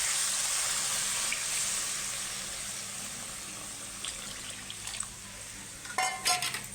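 Hot water goes into masala frying in oil, the sizzle hissing loudly at first and then settling, followed by a few stirring clinks and bursts of bubbling near the end, with no talking.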